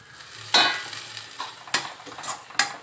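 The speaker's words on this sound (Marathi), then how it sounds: "अजून मी थोडंसं 1 मिनिट मी परतून घेणार आहे." Onions sautéing in a pan for dum aloo, with three sharp scraping stirs of a utensil over a soft, steady sizzle.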